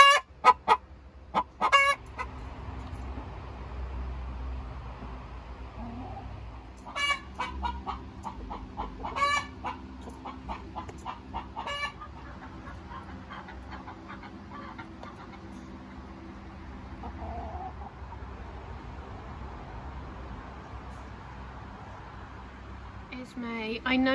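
Backyard hens cluck loudly and repeatedly in bursts, a noisy, busy flock close by with a rooster-like call mixed in and a person talking among them.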